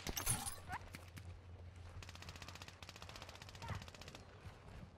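Bravo 7-1 rifle in Modern Warfare 2 firing in rapid bursts of sharp cracks, loud and close, with short pauses between strings of shots over faint game background noise.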